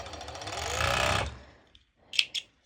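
Sewing machine running a stitch along the sides and crotch of lettuce-edge bottoms, a steady close whirring burst that slows and stops, followed by a couple of faint clicks.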